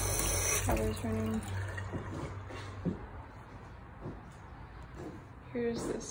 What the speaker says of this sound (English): Water's running.